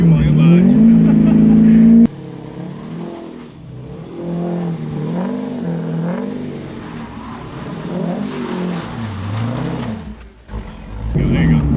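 A 500-horsepower C5 Corvette engine revs hard on the throttle, its pitch swelling and dipping in repeated surges, loud and close, with a voice talking over parts of it.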